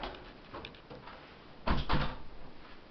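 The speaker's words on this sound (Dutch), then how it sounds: "Ik doe even de deur dicht." An indoor door is pulled shut in two quick, fairly close knocks and thuds, preceded by faint softer handling sounds and followed by a quiet room.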